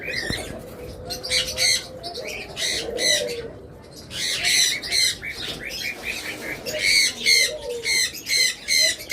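Diamond doves at a bird shop give a series of close, rhythmic calls in repeated bursts, fairly loud, with short gaps between phrases.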